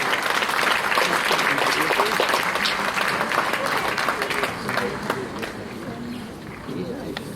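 Sustained audience applause at a school prize distribution, dense and steady for the whole stretch and easing slightly toward the end, with some voices mixed in.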